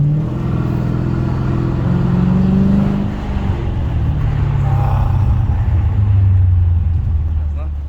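Large 6.5-litre engine of an American-market Volkswagen Passat producing a steady loud low rumble throughout, with pitch shifting slightly as it revs, while a person talks over it.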